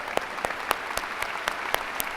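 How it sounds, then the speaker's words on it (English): An audience at a university commencement applauds the graduating class of 2016, steady crowd clapping with a few sharper, louder claps standing out at regular moments, continuous and moderately near throughout. "Will you join me in applauding yourselves?"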